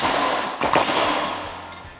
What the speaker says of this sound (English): I'm going to take my 24 millimeter on my half inch impact gun, and we're going to remove this bolt right here